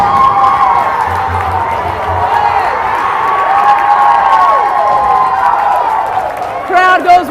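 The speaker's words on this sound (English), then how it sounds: "Crowd goes wild." A packed crowd at an Arvada vs Littleton state championship hockey game cheers and shouts loudly after a goal, a dense roar of voices with whistles and yells rising over it throughout.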